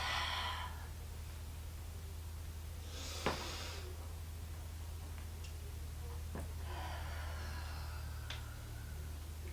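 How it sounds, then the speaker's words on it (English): A few slow, deep yoga breaths, each a soft, airy inhale or exhale with long pauses between them, sit over a low steady hum and a faint tick. No speech is heard. "Repeat this a few times in your own breath, deep breaths."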